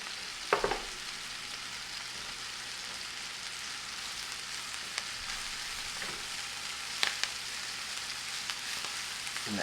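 Kale sizzling in olive oil in a pan: a steady bright hiss of frying running throughout, close and fairly quiet, with a few brief clicks and knocks of utensils.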